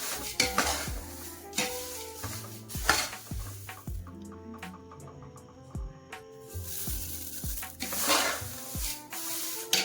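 Nylon poha roasting in a pan with turmeric and powdered sugar, stirred with repeated scraping clinks of a metal spoon over a soft, steady sizzle, close and fairly quiet throughout.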